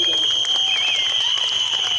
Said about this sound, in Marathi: चंद्रकांत सरपट यांच्यासाठी जोरदार टाळ्या